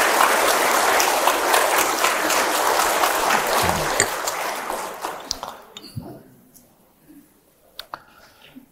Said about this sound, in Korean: 요 대목에서는 박수가 나와도 괜찮을 텐데.